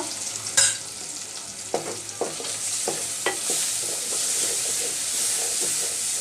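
Masoor lentils with a half spoon of turmeric stirred in a hot pan, giving a steady soft sizzle and hiss with several sharp scrapes and knocks of the spoon spaced through it.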